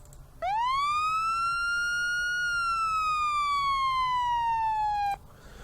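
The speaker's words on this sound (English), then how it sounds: "we're going to replace the default police siren, which is this one right here" The default PA20A Whale police siren from GTA V with the LSPDFR mod plays alone as a single clean electronic wail: it sweeps up, holds, then slowly drops before cutting off sharply.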